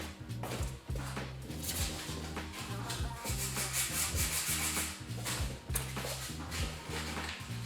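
Hand sanding of curb-rashed Rays 57 Xtreme wheels, done by hand in tight crevices instead of with a block: steady, close scratchy rubbing strokes in a quick repeating rhythm, with no voices.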